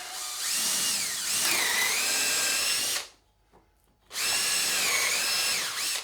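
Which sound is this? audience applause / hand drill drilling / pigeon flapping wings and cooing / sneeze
hand drill drilling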